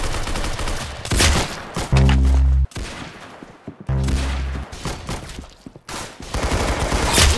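Rapid bursts of gunfire in the Roblox game Arsenal, loud and close, with sustained volleys broken by short pauses and low booming hits.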